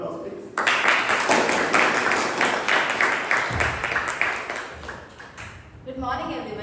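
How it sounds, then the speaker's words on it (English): A Toastmasters club meeting audience gives a dense burst of clapping that runs for about five seconds before thinning out, and then a voice begins speaking. "A big round of applause, please."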